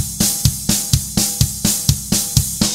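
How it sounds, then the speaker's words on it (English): Fast double-stroke snare drum pattern played alone, a sharp pair of hits repeating in a steady even rhythm, close and clear. "There's the snare tuka tuka,"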